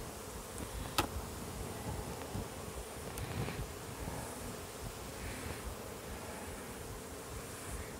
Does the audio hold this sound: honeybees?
yes